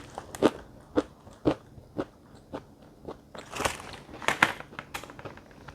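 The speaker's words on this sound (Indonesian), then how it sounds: "Manis. Kacangnya renyah. Real kacang tanah, enak." Crunchy coconut-and-egg-coated peanut snack, like kacang telur, being bitten and chewed up close: a steady run of sharp, crackly crunches about every half second, then a denser burst of louder chewing near the end, with no talking.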